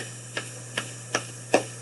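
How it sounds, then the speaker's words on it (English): Four sharp hand claps at an even, unhurried pace, fairly quiet against a low background hum. "If we clap our hands,"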